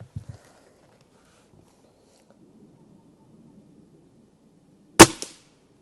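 A Gamo Hunter Extreme Pro air rifle fires once, a sharp, loud crack near the end after a long quiet stretch broken only by faint background sounds.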